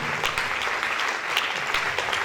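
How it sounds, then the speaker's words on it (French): A church congregation applauds during a testimony service, with dense, continuous handclapping at an even level throughout and no break. "Put your hands together beautifully for Jesus."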